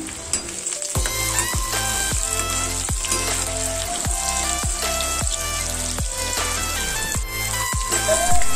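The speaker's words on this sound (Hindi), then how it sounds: "थोड़ी सी मस्टर्ड ऑयल और थोड़ी सी रिफाइंड तेल से मैं इसे फ्राई करूंगी" Food halved and frying in a mix of mustard oil and refined oil, giving a loud, continuous close sizzle with repeated clacks and scrapes of a spatula against the pan, no talk.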